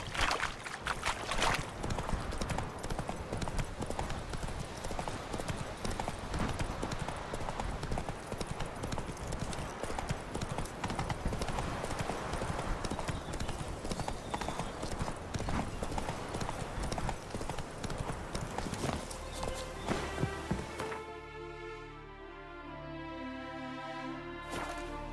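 A horse gallops in The Witcher 3, its hooves clip-clopping in a fast, steady beat for about twenty seconds over a rushing outdoor bed. The hoofbeats then drop away into a quieter tonal passage.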